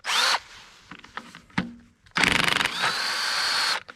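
Milwaukee cordless power drill with a failing battery during work on a 1991 Ford F150, heard close as short whirring bursts, some clicks and clatter, then a longer pulsing spin-up.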